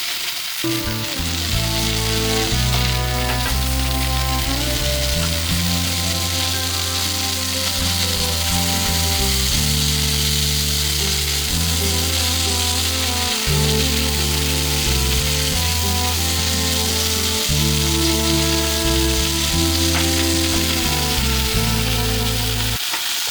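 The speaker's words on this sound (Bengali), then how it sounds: "এটাও চিংড়ি মাছ ভাজা হতে হতে পোড়া হতে হতে এটাও ভাজা হয়ে যাবে" Shrimp and a few garlic cloves fry in a pan, a loud continuous sizzle running without a break for the whole stretch, close and with no one speaking.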